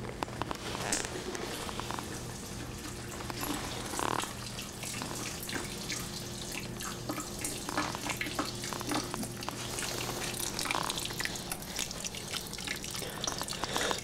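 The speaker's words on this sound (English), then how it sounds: "let's start sparging" Sparge water running and trickling through an all-grain beer mash, rinsing sugars into the wort; a steady, close, broadband wash of flowing water with small drips and bubbling, continuous throughout with no speech.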